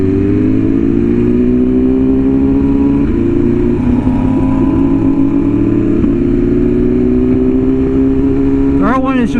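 A BMW S1000RR sportbike engine runs close and loud with a steady droning tone that slowly climbs in pitch, then a sharp quick rev near the end.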